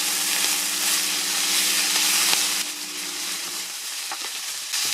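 Wilted carrot and old mushrooms fry in a pan while being stirred, a loud, close, continuous sizzle with scraping stir strokes and a brief shift in tone midway; no talking.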